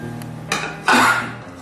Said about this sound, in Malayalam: റവ ചേർത്ത് നല്ലപോലെ ഇതൊന്ന് മിക്സ് ചെയ്യുക